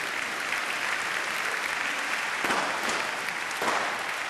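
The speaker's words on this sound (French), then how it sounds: "Alors on l'applaudit et on le salue." Sustained audience applause for a departing guest, a dense, even roar of clapping with a couple of brief swells along the way, lasting throughout.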